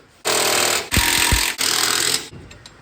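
A loud, close power tool hammers in three long rattling bursts while tightening nuts on a vehicle's rear suspension during coil tower bracing work, with short gaps between the bursts and no speech.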